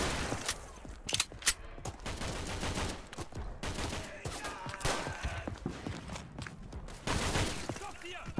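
Video game battle gunfire from Day of Infamy's Screaming Steel mode at the Valenciennes Stronghold map: rapid rifle shots and bursts of automatic fire crackle in uneven clusters, some close and sharp, others more distant, under intermittent shouted voices.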